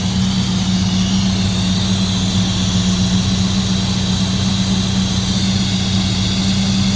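A Holden VK 304 V8, 5-litre, idles after its first start in over a year, a loud, steady low rumble running continuously throughout with no talking.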